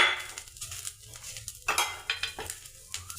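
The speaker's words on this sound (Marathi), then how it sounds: "यामध्ये आपण 10 काजू टाकून भाजून घेऊया।" Cashews roasting with grated coconut in a pan, marked by repeated close scraping and clinking from stirring, with a faint sizzle between the strokes and no talk.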